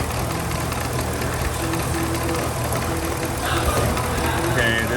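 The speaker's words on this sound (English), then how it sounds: "there's really no change with the number 8 coil unplugged. No change in RPMs, and the misfire didn't seem to change." Dodge engine idling roughly with a misfire while the number 8 ignition coil is unplugged, a steady low uneven rumble close by that swells slightly near the end.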